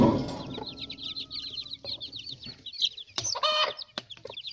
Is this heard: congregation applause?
no